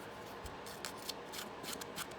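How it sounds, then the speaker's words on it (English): Scissors snip around the edges of paper for a grungy journal page, a series of quiet, crisp cuts in an irregular rhythm, close and alone. "I'm going to open up my scissors and I'm just going to go around the edges"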